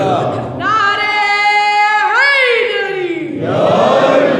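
Crowd at a Shia majlis gathering answers a call with a loud, sustained chant in unison, two drawn-out vocal phrases rising and falling together, voices blending into a strong collective roar.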